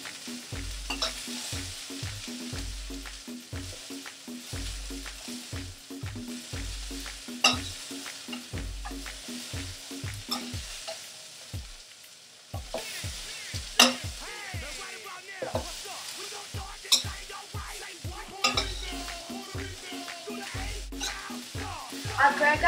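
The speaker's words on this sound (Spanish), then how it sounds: "Usa la misma pota y agrega la cebolla. Fríen para 10 minutos." Onion frying in oil in a pot, a steady close sizzle under repeated rhythmic knocks and scrapes of stirring, with no talking.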